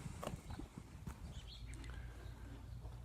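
A working ranch horse walking outdoors, with steady soft hoof clip-clops close by over a low rumbling background and a few faint bird chirps.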